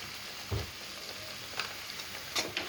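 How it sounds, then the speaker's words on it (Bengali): Spice paste of turmeric, coriander, cumin and chili powder frying in a pan, a faint continuous sizzle broken by a few soft knocks and scrapes of stirring. "আমরা মশলাটাকে খুব ভালোভাবে কষিয়ে নেব"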